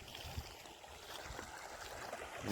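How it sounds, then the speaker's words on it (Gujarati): Irrigation water flowing into a sesame field outdoors, a steady faint rushing and gurgling wash with no voices. "પાણી શરૂ કર્યું છે તલમાં"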